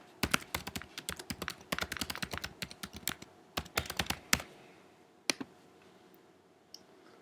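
Sharp computer keyboard typing and mouse clicks while logging into a website, a quick run of close, crisp taps for about four seconds, then a few isolated clicks with quiet gaps.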